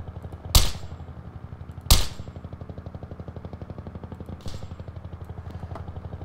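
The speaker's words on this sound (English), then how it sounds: "Shit, I hear gunfire." Sharp video game gunshots in Garry's Mod crack out twice in quick succession, then a softer third shot follows, over a steady rhythmic mechanical chugging in the background.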